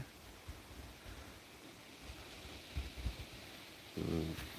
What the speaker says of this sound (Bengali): বাতাস বইতেছে